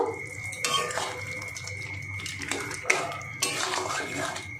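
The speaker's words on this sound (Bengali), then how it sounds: "গরম মশলাটা এই যে বেটে রেখেছি সেটা দিয়ে দেব। গ্যাস অফ করেই দিতে হবে বন্ধুরা। এবার আমি মিশিয়ে দেব।" A spoon stirs ground garam masala into potol-prawn curry in a pan with the gas off, giving soft, intermittent scrapes and clinks against the metal, close and fairly quiet.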